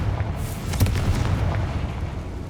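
A Confringo fire spell blasts in Hogwarts Legacy, a loud booming burst with a crackling fiery tail that fades over a couple of seconds, heard alone without speech.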